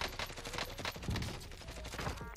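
Gunfire crackles in Call of Duty: Warzone, with rapid bursts of shots coming in dense, uneven volleys at moderate distance, steady through the moment and quiet in the overall mix.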